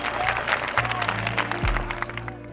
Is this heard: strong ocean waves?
no